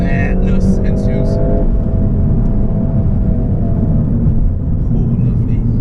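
Volkswagen Golf R coupe accelerating hard past 3,000 RPM, a steady loud engine drone with rising tone filling the cabin from start to finish.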